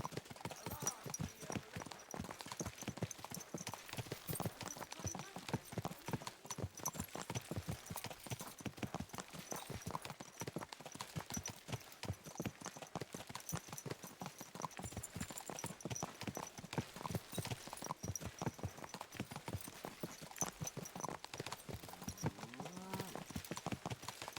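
Steady clip-clop of horse hooves trotting on a hard surface, continuous and fairly close, with a faint whinny near the end, from the video game Kingdom Come: Deliverance II.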